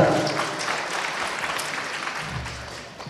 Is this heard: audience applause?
yes